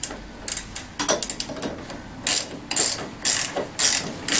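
Ratchet wrench tightening a 15 millimeter bolt during assembly of a TaoTao CY50A scooter, loud close clicking in short bursts of rapid pawl ticks separated by brief pauses.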